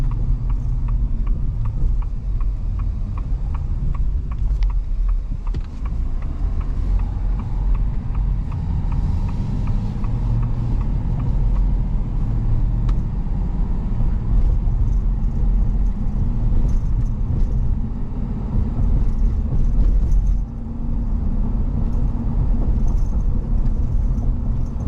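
A 2023 Ford F-250 Super Duty pickup with a 6.7L V8 driving on a road, a steady loud low rumble of engine and road noise that holds constant from start to finish, no talking.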